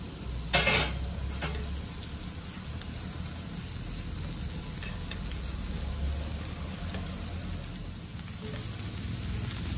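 Shredded cabbage and onion sauté in oil for a cabbage poriyal, giving a constant soft sizzle with a sharp scrape or clatter near the start and a few faint stirring sounds after.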